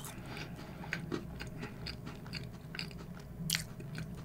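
Close-up chewing of a dry, cream-filled packaged snack cookie during a mukbang, with soft crunchy bites and wet mastication clicks repeating steadily under a quiet room hum, no talking.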